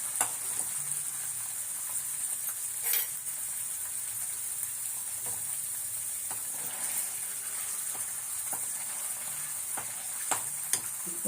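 Homemade coconut oil cooks in a pan with a continuous, even sizzle and frying hiss, broken by occasional small pops and crackles throughout.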